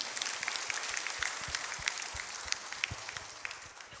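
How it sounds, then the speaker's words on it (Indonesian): Applause from the audience at a university graduation ceremony at an Islamic institute in Jambi: scattered, uneven clapping with distinct individual claps, fairly faint and distant, thinning out toward the end. "Boleh tepuk tangan."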